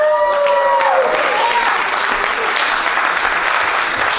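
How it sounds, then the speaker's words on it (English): A large crowd claps steadily and loudly throughout, dense applause with a few whoops, starting already in full swing. "let's give a round of applause to Frank for putting this on the chair."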